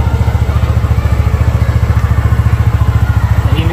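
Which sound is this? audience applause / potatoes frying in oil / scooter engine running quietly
scooter engine running quietly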